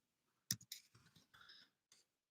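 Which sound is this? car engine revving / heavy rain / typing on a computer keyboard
typing on a computer keyboard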